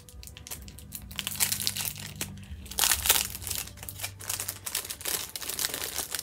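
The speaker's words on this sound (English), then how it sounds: "let me unwrap this." Paper crinkles, rustles and tears close by as a wrapped craft gift package is unwrapped, in irregular bursts of crumpling with a low hum underneath and no talking.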